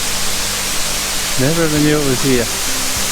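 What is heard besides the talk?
Ironbark Falls waterfall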